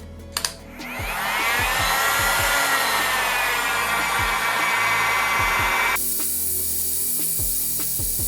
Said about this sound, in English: I have to heat up the back cover with a heat gun